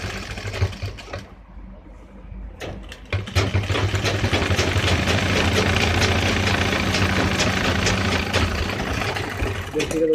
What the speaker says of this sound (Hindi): ये पॉकेट के मुंह पे हम सिलाई लगाएंगे जो कि एक पैर की सिलाई होती है।